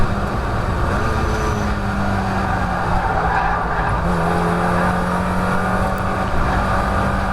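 A Mazda MX-5 race car at Croft circuit, loud and close with a steady droning engine note and a faint tire scrub as the brakes lock up briefly, held at a constant level throughout.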